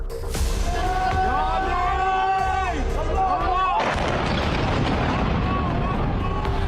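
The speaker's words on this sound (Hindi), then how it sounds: "ईरानी बैलिस्टिक मिसाइल के घातक प्रहार का यह वीडियो बहरीन का है।" Iranian ballistic missile strike in Bahrain captured in news footage: a loud, dense roar of blasts and rumbling that continues for the whole stretch, with a sudden heavier burst partway through and a steady layer of noise throughout.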